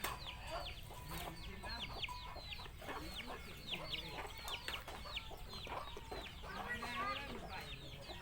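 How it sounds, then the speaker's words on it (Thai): A flock of chickens clucking and chattering together at a distance, a busy overlapping stream of calls with faint voices underneath. "ไก่หลายเลยพี่น้อง"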